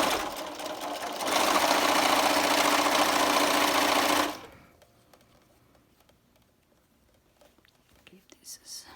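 Sewing machine running a steady quarter-inch seam through layered cotton and flannel for a face mask, loud and continuous for about three seconds, then stopping to near silence with faint handling noises.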